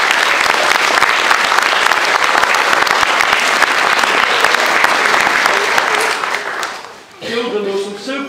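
A crowd at a primary school infant nativity play claps loudly and steadily for several seconds; the applause then dies away and a voice begins speaking.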